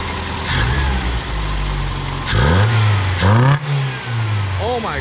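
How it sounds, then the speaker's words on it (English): A 1979 Honda engine fitted with Weber carburetors idles with a low, steady burble, then is revved several times, pitch climbing and dropping with each blip, loud and close, with people talking over it. "Oh, listen to her purring now."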